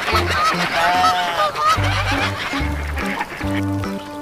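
Squeaky toy goose honks loudly in a quick repeated rhythm, several close duck-like honks following one another with short pauses in between, no talking over them.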